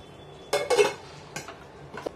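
A lid is set over kneaded dough in a village kitchen, giving a few short metallic clanks and clatters, close and alone, separated by quiet.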